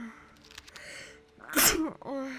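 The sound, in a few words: sneeze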